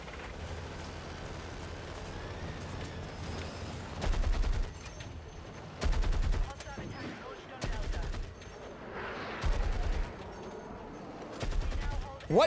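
Gunfire in the shooter game Battlefield 6: repeated bursts of rapid shots, five or six short volleys spaced a second or two apart, loud over a steady game-world rumble with a voice talking between them.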